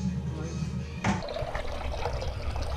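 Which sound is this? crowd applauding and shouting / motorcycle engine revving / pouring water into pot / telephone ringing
pouring water into pot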